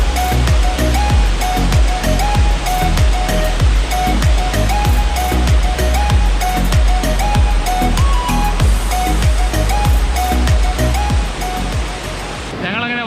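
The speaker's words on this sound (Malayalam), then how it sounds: "വെള്ളം പോകുന്ന ശബ്ദം കേട്ടോ." A waterfall pours over rocks in a forested area near an aqueduct, a loud, steady roar of rushing water that runs unbroken and close throughout.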